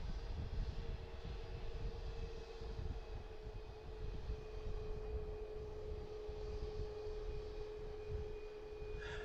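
An Allegiant airliner passing at night near Harrisburg, a steady distant engine roar holding level throughout with a faint constant whine over it, no voices.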